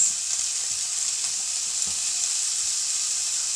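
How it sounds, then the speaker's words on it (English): Diced chorizo sausage sizzles steadily in a pan as the base for chicken and chorizo paella, a dense continuous fry with faint pops and small clicks, no voices. "my chorizo sausage, and I just want to cook that for about 6 to 8 minutes."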